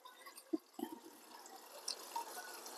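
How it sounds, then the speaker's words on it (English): Water running from a Samsung refrigerator dispenser just after a filter replacement, a soft steady trickle and splash with a few faint drips and clinks, fairly quiet and close with no talk. "turn the water on just to let out whatever air that has gone inside. And then the water comes out nice and clean."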